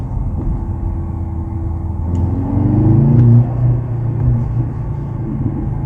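A 2023 Mercedes-AMG C43 engine running in classic mode at night, a steady low rumble that swells into a brief louder rev near the middle before settling back to an even drone, with no talking.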